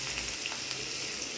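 Chopped onions and green chillies frying with chana dal in a pan for beetroot poriyal, a continuous close sizzle with crackling bursts and no voices.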